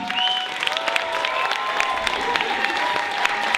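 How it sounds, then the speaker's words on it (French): Audience applause at a youth-centre stage show in Saint-Nicolas, a steady mass of clapping from a sizeable crowd with scattered whistles and cheers, sustained and fairly loud throughout. "Un applaudissement pour les filles encore s'il vous plaît, du bruit."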